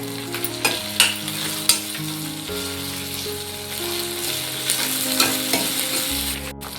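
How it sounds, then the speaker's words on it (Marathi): Goda masala stir-fried in hot oil with garlic for a Bhogi vegetable dish, a continuous close sizzle broken by sharp spoon scrapes and clinks against the pan, with no talking. "आता आपण गोडा मसाला टाकूया, चांगला तेलामध्ये असं परतून घेऊया"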